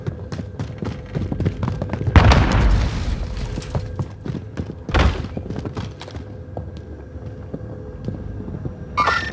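A frag grenade goes off in Call of Duty: Vanguard battle royale, a loud low boom with a burst of debris noise, followed shortly by a second heavy thud amid ongoing game ambience.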